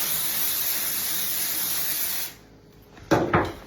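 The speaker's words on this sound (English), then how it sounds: "so now I'm spraying my pan." Cooking spray hisses in a long continuous burst onto a full pan, then stops, followed by a couple of short knocks or handling sounds.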